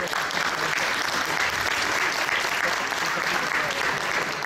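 Audience applause at a music showcase in a Leclerc store's cultural space in Rochefort: a full, even wash of clapping from a crowd, sustained throughout without speech.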